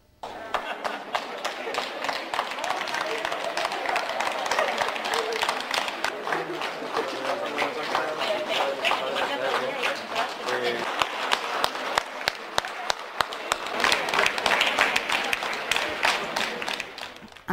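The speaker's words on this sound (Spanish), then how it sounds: "Así es, profesores aplaudiéndolos, es lo que se comentaba." Teachers applaud students arriving at the Segovia campus, a long run of dense crowd clapping that swells toward the end, with chatter and voices mixed underneath.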